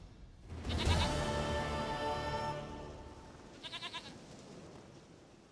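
A goat in The Witcher 3 bleats loudly in one long wavering call near the start, followed later by a softer burst of quick stuttering bleats, with no talk.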